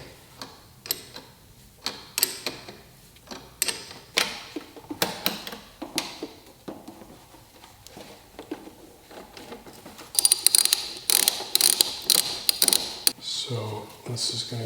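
A wrench turns a nut on a Jeep battery cable marine terminal, giving a series of quick metallic ratcheting ticks and clicks in short irregular bursts, with someone speaking in between.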